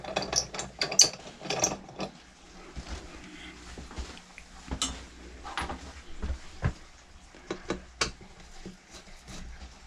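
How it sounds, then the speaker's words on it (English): Screws being undone on a light fixture, a close series of irregular clicking and ratcheting turns with small metallic scrapes and clatters, no talking. "Undoing the screws to hold this part up."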